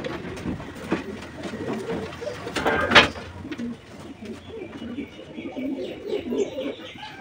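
Pigeons coo in a loft, with low repeated murmuring calls close by and some shuffling and wing movement, a brief louder flutter near the middle, amid background rumble.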